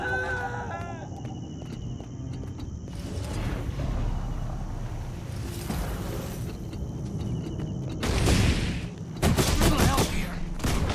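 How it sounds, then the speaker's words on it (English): Rocket Punch skill fired in Guild Wars 2, a fantasy online game: a steady rumbling battle bed builds to a loud burst around the middle and then a sharp, crackling blast of impacts near the end, with a voice heard at times. "Rocket punch!"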